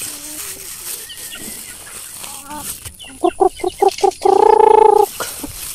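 Chickens in a coop, with soft scattered clucks leading into a run of sharp rhythmic clucks and then a loud drawn-out squawk, close by.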